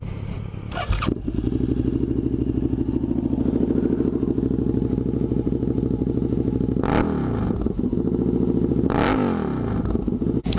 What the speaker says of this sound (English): I'm going to start the bike up real quick